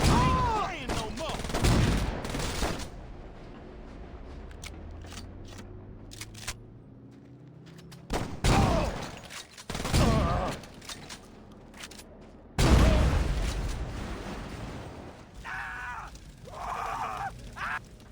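Gunfire in the video game Saints Row 2 comes in several loud bursts and rapid volleys, separated by quieter stretches with shouting voices.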